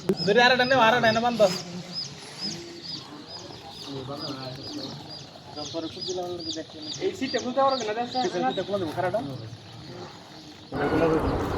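A dense chorus of native chicken chicks, about 1,850 of them, peeping and cheeping throughout, with someone talking over them much of the time.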